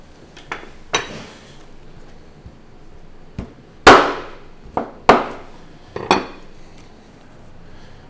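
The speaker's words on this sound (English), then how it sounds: "I'm gonna trim the loin portion up." A steel butchering knife trimming a lamb loin on a cutting board with traditional hand tools gives a series of sharp knocks and clanks, well spaced, with quiet stretches between them and no talking.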